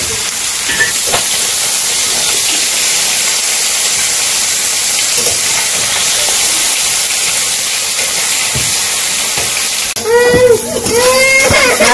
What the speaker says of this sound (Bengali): শুকনো মরিচের সাথে সবজিগুলো ভালো করে কষে নেই